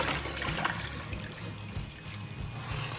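Water is poured out of a bowl of raw meat, a splashing, gurgling stream that runs steadily close by with no talk.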